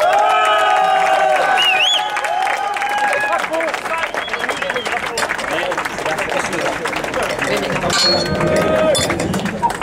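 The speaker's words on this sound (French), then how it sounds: "on peut vraiment les applaudir avec leur entraîneur" Crowd applauding and cheering at a reception for world champion parachutists and their coach, steady clapping with lively voices and babble throughout, a dense, continuous ovation close by.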